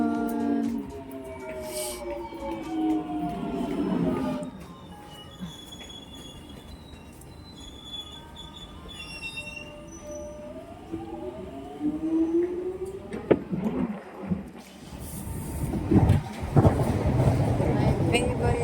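A commuter train rolls along the rails on a morning trip to work, its wheels squealing in long rising and falling tones over a steady rumble that surges louder near the end, with a few voices speaking softly beneath it.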